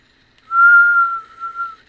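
A voice imitates tornado wind whistling through toilets: a single thin, sustained whistle just over a second long, close and clear, tapering into two short softer breaths.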